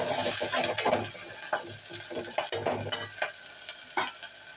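Eggplant and other vegetable pieces fry in a pot and are stirred, producing a close sizzle punctuated by repeated scraping and clattering strokes.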